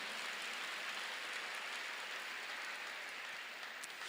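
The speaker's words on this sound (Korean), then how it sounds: "박수." A church congregation claps together in a dense, continuous wash of applause that holds steady and fairly distant for a few seconds, with no voices over it.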